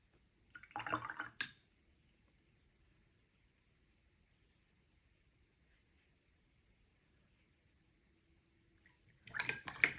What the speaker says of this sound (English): I threw that green brush right into my clean water